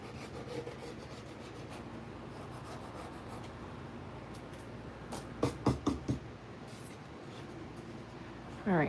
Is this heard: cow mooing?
no